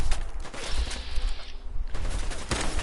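Gunfire in Fallout 4, a rapid run of shots with clicking weapon mechanisms, fairly close and fluctuating, with no talk over it.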